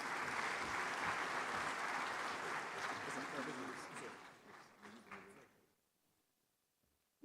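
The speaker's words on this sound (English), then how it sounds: "One more time, a resounding round of applause" A large audience at a bank's annual meetings applauds after the Prime Minister's speech, sustained dense clapping that gradually thins out and fades to near silence, with some voices mixed in.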